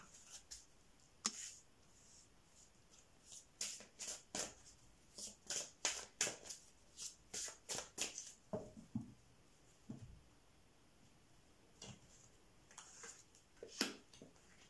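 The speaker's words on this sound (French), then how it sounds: "Après, je vais mettre des cartes." Tarot cards being shuffled and laid out on a table, a series of soft, close flicks and taps in irregular bursts, quiet overall with no talking.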